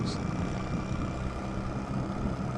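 Honda Rebel motorcycle with a loud, worn exhaust, a steady low engine drone while riding in Amish country, continuous and close with wind noise over it and no talking.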